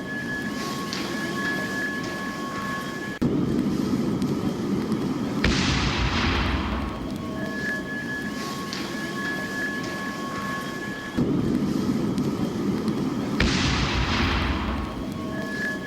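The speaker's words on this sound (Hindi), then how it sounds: "जो जिस तरीके से धमाके दहला रहे हैं उन आवाजों को आप सुन सकते हैं।" Several heavy blasts from a missile attack on Kyiv boom out over a constant low rumble, some followed by a rushing roar, with no voices.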